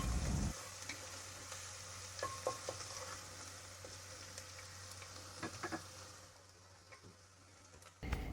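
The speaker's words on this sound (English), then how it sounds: "The oil is hot now, so I'm putting the garlic in it." Garlic sizzles in hot extra virgin olive oil in a pan, a steady close crackle with a few light stirring clicks, no talking, before it cuts off near the end.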